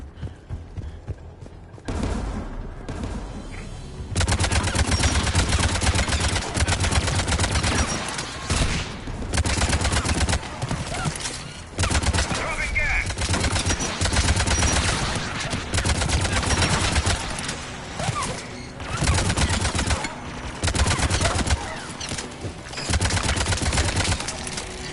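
Tower defence guns in Mass Effect 3 pound out long, sustained volleys of automatic fire that come in dense repeated bursts with brief gaps between them, loud and continuous after a quieter opening few seconds.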